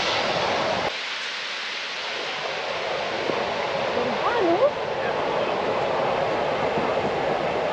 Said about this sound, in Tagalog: Seljalandsfoss is the only known waterfall of its kind where it is possible to walk behind it.